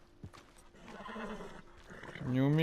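A horse in Red Dead Redemption 2 whinnies loudly near the end, after hoof clip-clops and movement noise, while someone speaks in the background.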